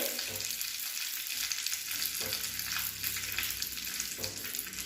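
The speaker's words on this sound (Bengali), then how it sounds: "হালকা আঁচে এগুলো ভালো করে একটু নাড়িয়ে নিতে হবে।" Cashews and raisins crackle and sizzle in a pan over low heat, with occasional scraping from stirring, continuous and close with no talking.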